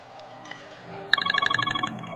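A phone starts ringing in an office after a quiet stretch, giving a repeated electronic trilling that runs near and clear for about a second.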